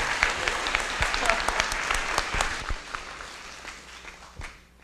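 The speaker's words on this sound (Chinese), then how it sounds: "我们是不是在他回答之前全场先给敏聪教授一个热烈的掌声这样？" Audience applause at a physics lecture Q&A for a professor, dense clapping from a crowd that swells and then thins out over a few seconds, with some voices mixed in.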